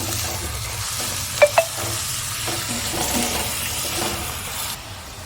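Onion sautéing in a pan for prawn masala, a steady low sizzle with soft stirring scrapes throughout and two brief sharp clinks near the middle, no voices.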